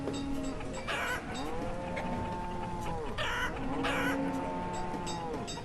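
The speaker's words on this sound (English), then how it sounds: "Our chickens are multiplying very fast" Farm chickens cluck and squawk repeatedly in the video game Banished, overlapping calls from several birds rising and falling over a steady ambient bed, moderately close and clear, with no speech.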